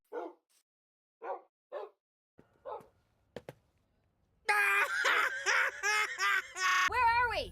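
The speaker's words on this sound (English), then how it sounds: "Dogs!" Dogs barking in an edited cartoon clip, several short separate barks spaced apart, then a loud dense burst of overlapping yelps and wails near the end.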